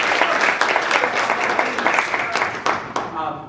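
Audience applause at a talk on serving on a board of directors: a dense, steady patter of many hands clapping together for a few seconds, fairly close and even in level.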